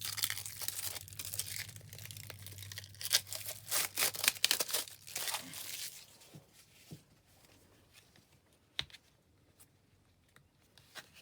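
Crinkly plastic wrapping torn and crumpled off a brand-new pack of poker-size jade playing cards, close and busy at first, then sparse rustles and a sharp snap as the cellophane comes away.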